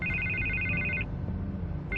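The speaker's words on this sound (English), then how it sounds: "I can't get the phone to stop ringing." A telephone ringing in the Batman Telltale series game, a loud electronic trill lasting about a second, a short pause, then the ring starting again over a low background hum.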